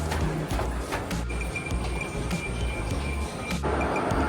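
A train pulls in on the track at platform five of Palakkad railway station, its steady rumble and clanking wheel knocks close by, with a faint tonal squeal running through.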